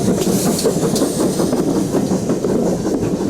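Great Western steam tank locomotive 4615 pulling out beneath the glass roof of Paddington station, a steady loud rumble with rhythmic clanking and clicks of wheels over rail joints, no voices.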